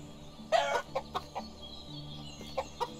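Chickens cluck in short bursts on a poultry farm, several sharp calls standing out over a steady low barn hum, fairly close with no talking.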